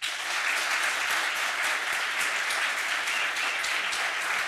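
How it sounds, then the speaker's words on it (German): A studio audience at a German sports comedy show cheers and applauds in one loud, steady roar that holds unbroken for several seconds. "Mal Lärm machen für Nein?"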